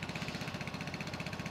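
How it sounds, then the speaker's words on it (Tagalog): A Vespa S125 scooter idling with a Polini full exhaust, a rapid, steady throbbing pulse and raspy exhaust note, fairly quiet and continuous, no speech. "Polini full exhaust sa Vespa S125."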